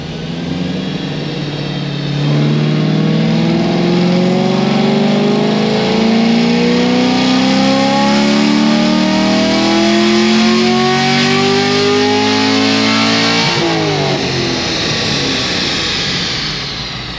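Naturally aspirated LT1 V8 in a 700 hp Camaro pulling hard on a dyno, a loud sustained rising roar climbing steadily in pitch for over ten seconds before dropping off.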